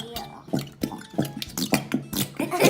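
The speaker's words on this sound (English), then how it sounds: "the glue sounds like it's farting" Clear glue pours into a bowl, making a string of wet bubbling, popping splutters at an irregular rhythm, close and fairly quiet.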